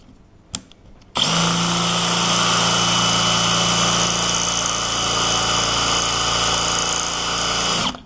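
A drill bit grinds steadily into the hardened steel pin of an ASSA Stanley padlock, a loud continuous high whine starting after a brief click and running unbroken for about seven seconds.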